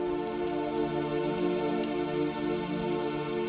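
Calming rain patters softly and steadily, a gentle continuous hiss with scattered brief drop ticks, faint and alone.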